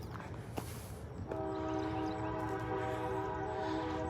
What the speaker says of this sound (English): It's like a train.